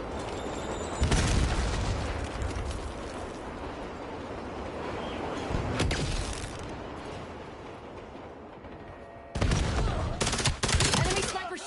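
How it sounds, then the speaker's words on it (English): Sniper gunfire in the shooter game Black Ops 7: loud broadband shots cut through steady game noise near 1 s, again around 6 s, and in a dense cluster from 9.5 to 11.5 s. "Enemy sniper shooting."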